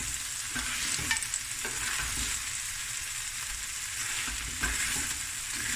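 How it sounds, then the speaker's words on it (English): Rice with ginger and garlic frying in a pan, a steady close sizzle broken by scraping stirs of a utensil, loud and continuous with no talking. "I'm frying this rice now."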